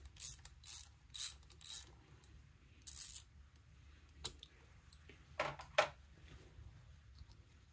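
A tap backed out of a stripped bolt hole during a Heli-coil thread repair, giving a few separate metallic clicks and ratchety ticks spread over several seconds against a quiet background.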